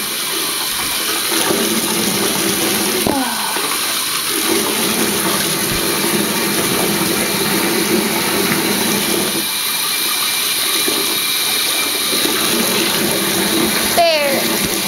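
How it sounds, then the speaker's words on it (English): Warm bath water running from a tap in the Webkinz game, a continuous loud gushing rush that stays steady throughout with a few faint squeaks over it. "Okay, I'm turning on this warm water."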